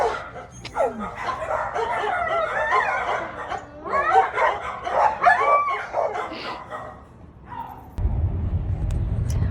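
Several dogs at an animal shelter bark, yelp and whine in a close, overlapping chorus for most of the stretch. A steady low rumble takes over near the end.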